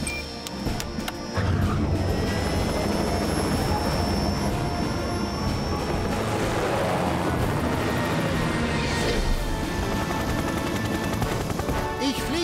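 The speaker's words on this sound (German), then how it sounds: "Ich kann einen Hubschrauber fliegen." A cartoon rescue helicopter from Fireman Sam flies with a loud, continuous, rapid rotor chop and a whining engine that hold steady throughout.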